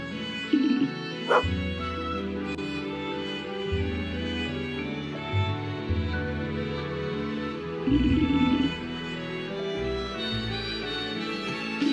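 A dog in the farming-village video game Potion Permit gives a few short barks and yips over background music, scattered across the stretch rather than continuous.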